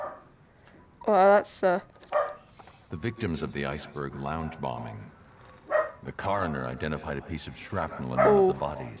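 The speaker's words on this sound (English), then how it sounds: "Sorry about my dog." A pet dog in the room barks in a couple of sharp yips and then whimpers softly, heard under continuous spoken dialogue from a Batman Arkham VR PlayStation 4 game.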